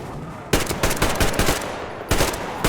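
Loud bursts of automatic gunfire in Metro Exodus as a creature is shot, rapid rattling shots in two close volleys separated by a short pause, no talking.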